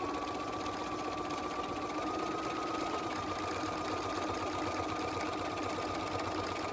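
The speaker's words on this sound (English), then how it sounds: "I want to back stitch at the top" A sewing machine back stitches along a fly front zipper, its motor running in a steady, continuous buzz at close range for the whole stretch, with no voices over it.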